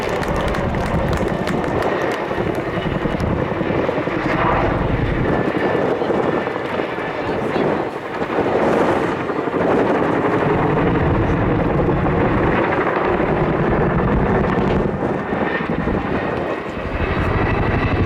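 A Chinook helicopter roars loudly overhead at an RAF Cosford role demonstration, its heavy rotor thrum and engine whine continuous and close, swelling slightly as it passes.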